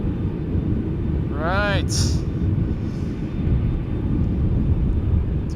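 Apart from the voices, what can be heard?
Airbus A330-300 airliner at Schiphol Airport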